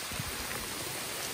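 Steady rain falls on a farm where sheep are kept, a dense, even hiss of drops with soft low patter, close and continuous for the short stretch with no voices.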